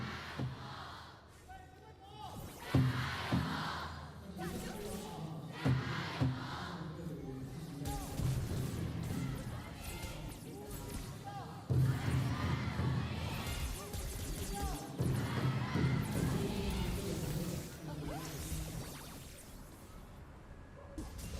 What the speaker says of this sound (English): let's hear the crowd once again